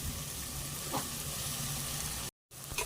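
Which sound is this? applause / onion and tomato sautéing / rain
onion and tomato sautéing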